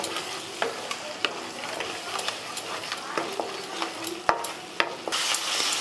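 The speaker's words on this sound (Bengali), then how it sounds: "এবার হালকা হাতে আমি সব মশলাগুলো একটু নাড়াচাড়া করে নিচ্ছি।" Spices and yogurt stirred together in a pan over low heat, a steady background sizzle broken by repeated scraping strokes and light clinks of the spoon, moderately close.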